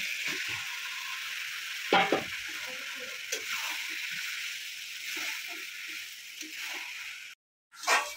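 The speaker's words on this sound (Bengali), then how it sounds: "বাঁধাকপিটা ভালোভাবে মশলার মধ্যে নেড়ে চেড়ে নিচ্ছি" Boiled cabbage being stirred into fried spice paste in a pan, a soft steady sizzle with a few scraping strokes and light clinks, fairly quiet.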